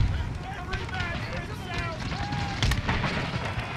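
Musket volleys and battlefield gunfire in the strategy game Empire: Total War, a dense, continuous rumble of shots and crackle with someone talking over it.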